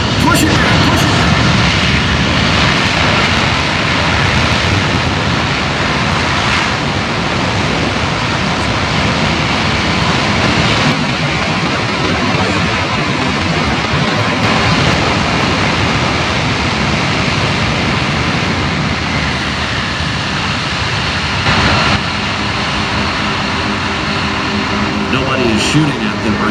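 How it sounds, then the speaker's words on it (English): A Boeing C-17 military transport jet lands at the Miramar Airshow, a loud sustained engine roar from reverse thrust filling the whole stretch while a commentator talks over it. "you can just imagine the tactical surprise of bringing in a C-17 like this"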